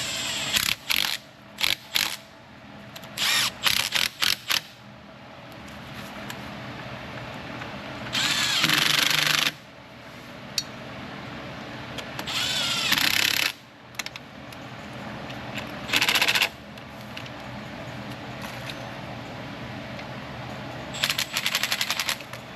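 Power tool driving down the perimeter bolts on the upper intake manifold of a GM Dexcool engine: several short, loud bursts of whirring, separated by pauses filled with quieter handling and clicking sounds.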